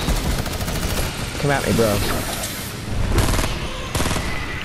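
Gunfire in the Fortnite video game: rapid shots crackle under a player's excited talking, with a few sharper, louder reports standing out near the middle and end.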